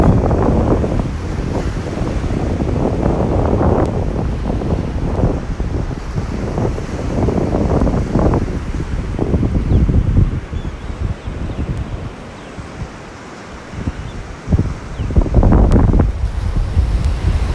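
Steady ocean surf rolls onto a beach in North Naples, Florida at morning, with continuous wind buffeting the microphone and repeated wash of waves, a louder surge near the end.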